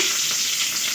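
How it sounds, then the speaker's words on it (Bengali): Onion frying in hot oil with five-spice seeds: a bright, close, steady sizzle with no pauses, loud and unbroken for a moment. "পেঁয়াজ দিয়ে দিচ্ছি"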